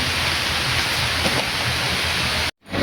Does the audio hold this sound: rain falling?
yes